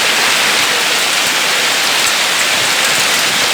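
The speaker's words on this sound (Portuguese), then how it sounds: "Olha a chuva." Heavy rain mixed with hail pours down over São Paulo, a dense, steady roar of drops and ice striking surfaces close by, continuous and loud with no voices over it.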